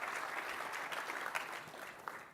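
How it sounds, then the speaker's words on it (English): A conference audience applauds as presenters are welcomed to the stage, a dense, steady clapping from a sizable crowd that fades slightly toward the end, with no speech over it. "Give them a round of applause."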